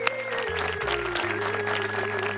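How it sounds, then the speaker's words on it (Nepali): Loud, dense applause from a studio audience after a song performance on a television music competition, continuous and even, with a steady electronic tone and music underneath. "जोरदार ताली तपाईहरुको लागि"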